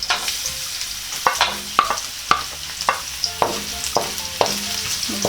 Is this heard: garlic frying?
yes